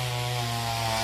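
A chainsaw cuts a branch of a large Xà Cừ tree beside a house roof, its engine holding a steady, loud, buzzing drone with strong harmonic bands throughout, no pauses and no talk.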